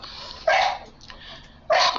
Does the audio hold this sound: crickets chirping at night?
no